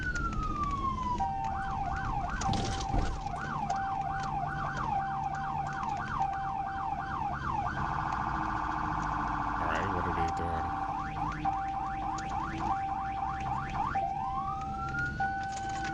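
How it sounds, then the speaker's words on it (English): An Arkansas State Trooper police car siren wails and yelps in cycling tones during a traffic stop, switching patterns several times, loud and close, over a steady engine hum. "Arkansas State Trooper siren."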